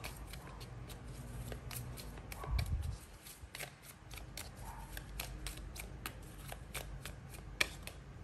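Tarot cards are shuffled by hand in a run of soft riffling and flicking strokes, close and alone, with one sharp snap near the end.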